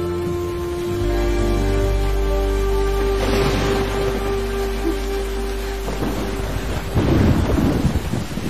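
Rain falls steadily with deep rolling thunder rumbling through a storm, close and loud with no talking.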